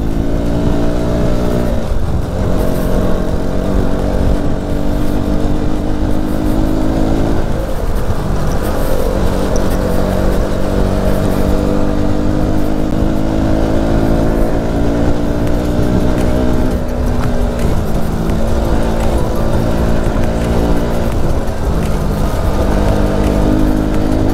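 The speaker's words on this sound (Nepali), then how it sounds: "गाइस कस्तो कुदेको ड्युक यार" A KTM Duke motorcycle ridden on the road from Jomsom toward Upper Mustang, its engine loud and close in a continuous drone whose pitch climbs and dips as the rider revs and shifts.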